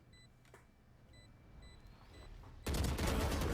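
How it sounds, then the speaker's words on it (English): Gunfire in the tactical shooter game Valorant: faint beeps and a quiet game ambience, then a sudden loud, sustained burst of shots near the end, with no talk. "a nice little 1v3 clutch"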